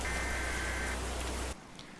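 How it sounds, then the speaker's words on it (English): Rain pattering steadily on a storm-chasing car near a tornado, a dense hiss under a low engine hum and a brief tone, cutting abruptly to a muffled quieter interior near the end. "the rain's going to make things incredibly annoying to see"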